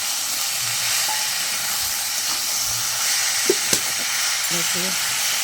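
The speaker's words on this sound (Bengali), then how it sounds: "ভালো করে কষিয়ে নেব।" Tomatoes, peas and salt fry in a pan for an egg curry, giving a steady close sizzling hiss with faint stirring clinks and a few short sounds from a voice in the background.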